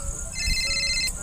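Mobile phone ringtone chiming in a comedy skit: a single bright electronic tone pattern, fairly clear and close, running about a second over low background noise.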